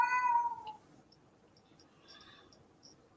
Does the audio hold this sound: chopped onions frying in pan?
no